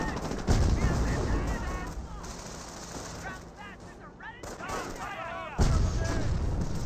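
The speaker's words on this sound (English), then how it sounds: "Rifle squad does a bit of fire there." Rifle squad gunfire in the Company of Heroes 1 strategy game, bursts of rapid rifle and machine-gun shots with booming battle noise, heard under a commentator's voice.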